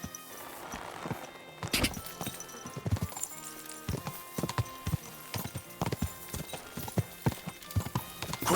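Horse hooves clip-clop in a brisk, uneven rhythm in the game Kingdom Come: Deliverance II, fairly close, with a few louder thuds among the steady clatter.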